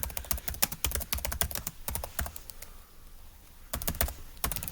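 Fingers type on a computer keyboard in quick, irregular bursts of close, crisp key clicks, with a short pause in the middle before the tapping resumes.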